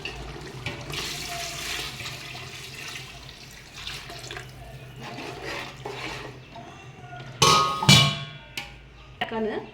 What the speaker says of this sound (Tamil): இப்போ இதில் நாம தண்ணி அளந்து வச்ச தண்ணியை சேர்த்துக்கலாம்